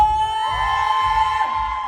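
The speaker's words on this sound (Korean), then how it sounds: "텐션 한번 려볼까 소리 질러!" A musical audience at the curtain call of an Egon Schiele musical shouts and cheers in a sustained, loud roar, held steady over a pulsing low rhythmic beat.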